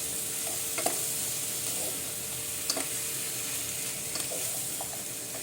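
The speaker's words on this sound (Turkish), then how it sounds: "Mantarlarımız güzelce kavururken biraz sonra suyunu salmaya başlayacak arkadaşlar." Mushrooms sautéing in a pan make a soft, steady sizzle with a few faint clinks and stirring scrapes, close by and with no voices.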